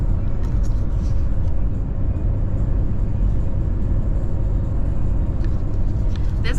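Steady, loud low rumble of a car cruising along a highway across central Wyoming, with road and engine noise filling the cabin evenly throughout.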